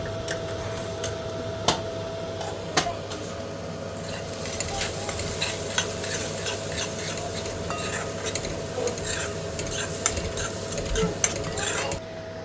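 Onion frying in hot oil with chili, garam masala and turmeric added for a tempering, a steady sizzle with clinking utensils and sharp metallic taps throughout, no talk.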